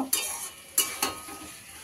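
Spices being stirred and sautéed in a pan with ginger and cumin, a few sharp scraping strokes of a utensil standing out over a soft continuous sizzle.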